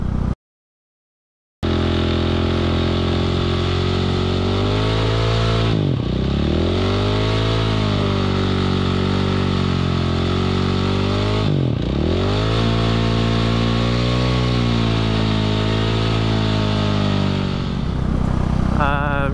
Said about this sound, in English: I also went out just to burn off my old rear tire.